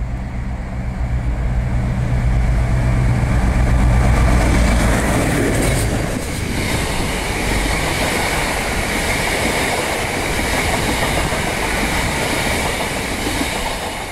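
Modern trains at Salford Crescent and Rochdale stations, a loud sustained rumble of a passing unit with rhythmic wheel clatter over rail joints and a rising hiss partway through, continuing steadily to the end.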